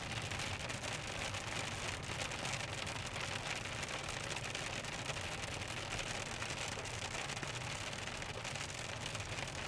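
Steady heavy rain drumming on a surface during a storm in Iowa, dense and continuous throughout, with a faint low rumble of distant thunder, no voices.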